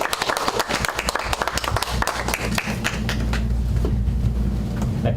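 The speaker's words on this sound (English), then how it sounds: "So please give a huge round of applause for John and Emet." Audience applause at a book event, a dense burst of many hands clapping that tapers off into a low steady room hum.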